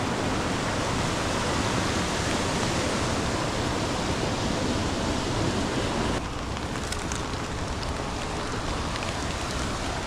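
Creek water rushing steadily into a tunnel in the woods, a dense, continuous broadband wash like a small waterfall, close and loud throughout, dipping slightly in the last few seconds.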